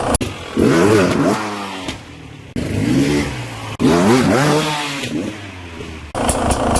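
Enduro motorcycle engine revving in repeated double-blip throttle bursts, each a pair of sharp rising revs, loud and close with brief gaps between bursts.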